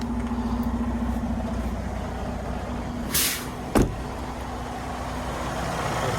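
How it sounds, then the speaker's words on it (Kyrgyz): A truck engine idles steadily at close range with a low, even rumble, broken by a brief hiss and a sharp knock partway through. "Азыр мотордун үнүн угузуп коеюн."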